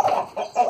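A broody hen clucks while being moved during nesting: two or three close, loud, throaty clucks in quick succession with no talk.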